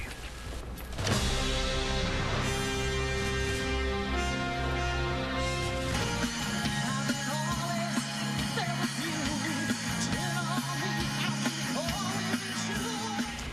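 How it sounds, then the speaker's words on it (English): Loud, dense live rock band music at an outdoor summer benefit concert, driving bass and drums, steady throughout, with a shift in the mix partway through and a crowd-like wash underneath. "that is the sound of the 7th annual United by Sacrifice concert that rocked the stage"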